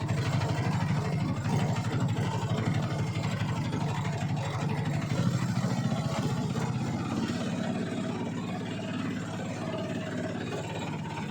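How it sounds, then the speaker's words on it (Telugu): An auto-rickshaw engine labours steadily uphill on an underground path, a close, continuous mid-pitched drone with a throbbing rumble and no let-up, no talk over it. "ఆటో కూడా మొత్తుకుంటుంది, ఎక్కుతలేదు గడ్డ"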